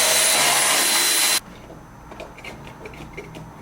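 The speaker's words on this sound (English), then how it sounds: "Is one of these electric ratchets. Milwaukee makes a really good one." A Milwaukee electric ratchet whirs loudly and close for about a second and a half while removing a Jeep antenna, then cuts off abruptly, leaving quiet, faint tapping and handling noises.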